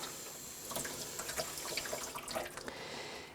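Running water washes acid off a metal line-etching plate, a light trickling and splashing stream with scattered drips and clinks, moderately close and without speech.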